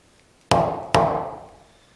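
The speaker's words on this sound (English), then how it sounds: "this thing is just mashing the wood, it's not even cutting" Two sharp, close strikes of an old chisel driven into wood while making a wooden joiner's mallet, about half a second apart, each a solid percussive knock that rings out briefly, with no talking.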